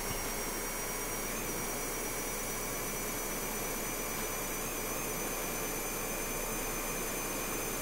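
Electric motorcycle ridden in the racing video game Ride 3, a steady high-pitched electric motor whine with rushing wind noise, continuous and even throughout.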